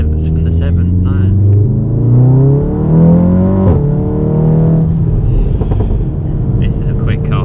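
An APR Stage 2 MK7 Golf R accelerates hard from inside the cabin, its engine note climbing through a gear change in a steady rising drone, with people talking over it.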